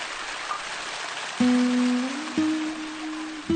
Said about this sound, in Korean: 지붕이 없는 배는 꼼짝없이 소나기를 다 맞아야 한다.